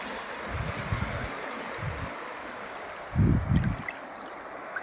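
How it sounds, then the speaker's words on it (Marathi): Sea waves rolling in while a fishing crew works crab and fish nets in shallow water offshore; low, soft sloshing surges arrive in a few separate bursts over steady wind noise, with one stronger wash near the end. "हे बघा लाटा आहे"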